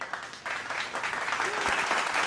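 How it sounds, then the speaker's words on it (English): A short applause sound effect is dropped into a podcast, a brief burst of dense clapping that stays fairly even and faint for a couple of seconds. "I'll put applause in there."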